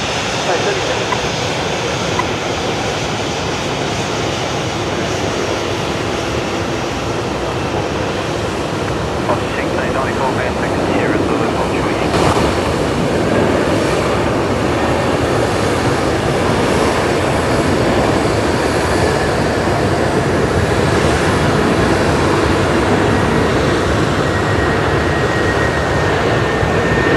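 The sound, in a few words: Kalitta Boeing 747 jet taking off at Brisbane Airport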